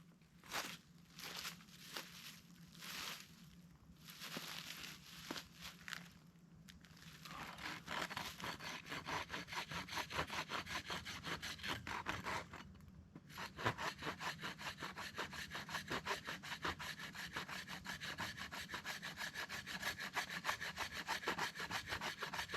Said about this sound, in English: I got a new handsaw. I'm gonna try it.